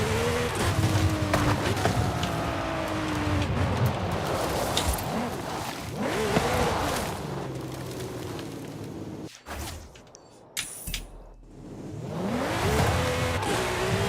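Lamborghini Sterrato, a four-wheel-drive off-road supercar on off-road tyres, driven in the Forza Horizon 5 video game: a loud, continuous engine roar with rising and falling revs, briefly cutting out before building again.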